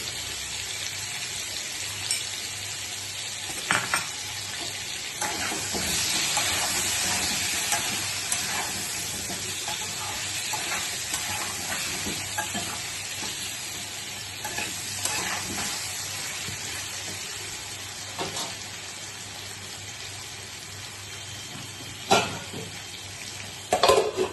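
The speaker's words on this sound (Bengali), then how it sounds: "আলুগুলো দেখো প্রায় ভাজা হয়ে গেছে" Potatoes fry with salt and turmeric in a pan, a steady soft sizzle running throughout with occasional stirring scrapes and clinks of a utensil against the pan.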